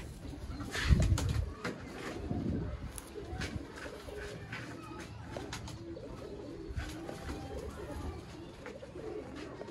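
Chapra pigeons, a rare fancy breed kept by a Sialkot fancier, coo steadily at close range amid a dense, busy loft background, with a louder burst of low cooing early on and no talking.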